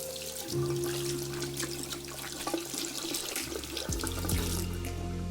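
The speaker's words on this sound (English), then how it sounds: "I headed to the bathroom and I washed some cool water on my face." Water runs from a tap into a bathroom sink, a steady close hiss and trickle with splashing as it is cupped onto a face, and the faucet tone shifts partway through.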